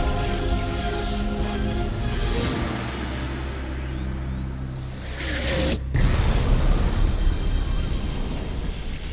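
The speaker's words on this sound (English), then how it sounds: "Who made that explosion?" An explosion in the video game Zone of the Enders: The 2nd Runner: a deep rumbling boom over droning mech engine noise, then a sharp cutoff and whooshing sweeps before the low rumble resumes.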